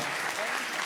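Brief burst of audience applause for Harish Gala at the Ciné-Mantes film festival, dense clapping with a voice briefly over it.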